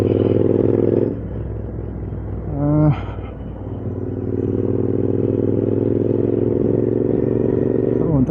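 A Royal Enfield Interceptor 650 motorcycle engine runs with a steady, low rumbling drone. It dips after about a second, then briefly rises in pitch and loudness near the three-second mark before settling back into a continuous hum.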